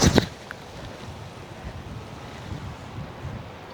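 Wind gusting across an open hillside golf course, a steady broad rushing roar buffeting the microphone, with a sharp louder burst at the very start and no voices.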